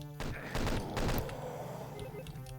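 Shotgun fire in Doom 2, with a couple of dense, heavy blasts close together, followed by a rumbling tail and game noise.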